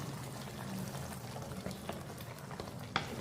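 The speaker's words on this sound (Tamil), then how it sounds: "மீதி இருக்க எண்ணெயை இந்த இதில் ஊற்றிக்குவோம்." Colombo coconut oil is poured into a pot and left to bubble, with a faint, soft simmering and a quiet trickle close by and no talking.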